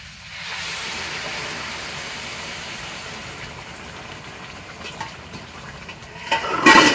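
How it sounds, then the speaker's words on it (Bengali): Water pours into a pot of peas and potatoes cooking into ghugni, a steady rushing hiss that builds to a louder burst of splashing and sizzling at the end, with no talking. "এবার আমি এতে জল দিয়ে দেবো"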